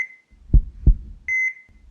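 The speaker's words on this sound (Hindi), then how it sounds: "दिल की धड़कनें तेज चल रही हैं।" A hospital-style heartbeat effect plays, with two deep thumps close together followed by a steady electronic monitor beep. Another beep and thump open and close the sequence, against otherwise silent surroundings.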